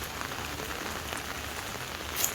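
Steady rain falls in a rural Thai village, a dense, continuous hiss of drops pattering on surfaces close by, with no voices heard.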